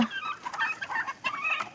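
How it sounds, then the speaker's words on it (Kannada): Several native country chickens cluck and chatter in quick, overlapping bursts, a busy flock close by on a poultry farm with no talking. "ಇದು ನೋಡ್ರಿ ನಮ್ಮದು ಕೋಳಿ ಫಾರ್ಮ್"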